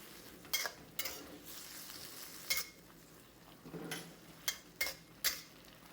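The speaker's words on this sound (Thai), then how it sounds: "แล้วก็ให้เราผัดคลุกเคล้าให้เข้ากันนะครับ" Sauce of sugar, seasoning sauce and water is stir-fried in a pan for tilapia with celery, giving a soft steady sizzle broken by several sharp spatula scrapes and clacks against the pan, close up with no talking.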